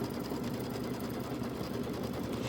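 A Kimberbell embroidery machine stitches out a design on sprayed background fabric, a steady, continuous mechanical whirr with rapid needle chatter running at an even level throughout, with no voices.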